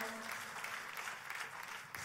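A church congregation applauds during an Indonesian sermon, with faint, steady clapping that sounds distant for about two seconds.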